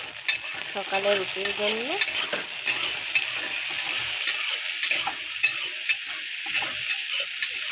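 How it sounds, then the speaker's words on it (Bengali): Tomatoes and onion sizzle in a pan for tomato chutney, a steady close frying hiss broken by repeated scrapes and taps of stirring, with a brief spoken remark near the start. "টমেটোগুলো দিয়ে দেবো, দিয়ে এখন আমি টমেটো চাটনি বানাবো"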